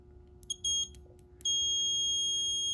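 A high electronic beep from a continuity tester sounds briefly as wires touch, stops, then returns as a steady continuous tone over a quiet background hum.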